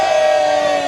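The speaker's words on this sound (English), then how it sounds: "we'll have a cheer" A small group at a political rally cheering together, one brief, loud, sustained shout with a strong steady pitch.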